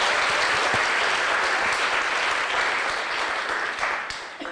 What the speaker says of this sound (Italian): Grazie Cesco, un applauso.